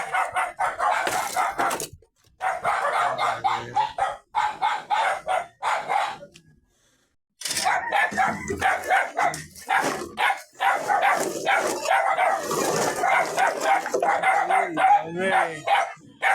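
Repeated loud dog barks in bursts, with a pause partway through, mixed with rooster-like crowing and people talking nearby.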